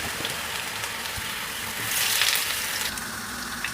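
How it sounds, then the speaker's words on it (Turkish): Finger-cut potatoes fry in a small amount of oil in a pan, giving a steady close hiss and sizzle that swells briefly midway, with no talk. "Parmak kebabımız için patateslerimi parmak şeklinde doğradım. Çok az yağda çok az kızartacağım."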